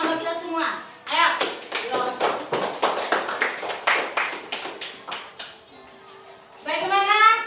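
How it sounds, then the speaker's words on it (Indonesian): Schoolchildren in an Indonesian Islamic education class clapping together in a quick rhythmic pattern of sharp, close bursts, with a teacher's voice before and after. "Tepuk tangan kita semua."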